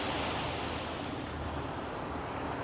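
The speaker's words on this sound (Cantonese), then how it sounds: "呢一處係好大風啊！" Strong wind and surf at Teluk Cempedak beach in Kuantan, facing the South China Sea, as a steady, loud roar of wind buffeting the microphone and breaking waves with no pauses.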